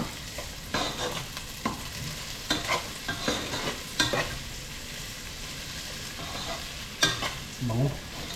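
Onions fry in a pan for a mung bean stew, giving a continuous soft sizzle close by, punctuated by irregular scraping knocks of a utensil stirring against the pan, with no one speaking.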